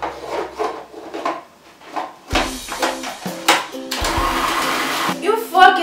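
Pumpkin cake batter with butter is being mixed in a bowl, giving rough scraping and rubbing strokes followed by a louder, steadier whirring mixer-like churn in the second half, with no speech.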